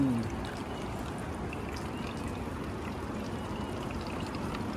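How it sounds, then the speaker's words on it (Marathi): Water is collected from a mountain spring on a trek to Mruggad fort in Maharashtra, with a steady, close trickling pour that runs without a break. "तर आता दादा इथं पाणी भरतोय"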